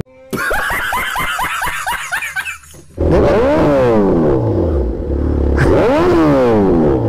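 A 2023 Suzuki Hayabusa motorcycle engine revs hard in rising and falling surges, loud and close, after a stretch of rapid stuttering bursts.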